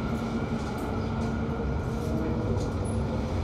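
A London Overground train on the Goblin line toward Gospel Oak, heard from inside as a continuous loud rumble of wheels and carriage with a faint squeal near the end.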